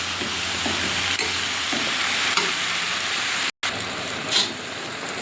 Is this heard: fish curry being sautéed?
yes